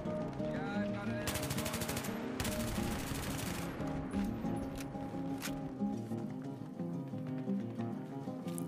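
Rapid automatic gunfire bursts in Battlefield 3, two dense volleys early on followed by scattered single shots and distant pops under faint game ambience.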